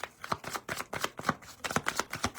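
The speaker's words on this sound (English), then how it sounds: "Last shuffle." Tarot cards are shuffled in quick bursts of papery riffling and slapping, close and fairly quiet, with no voices.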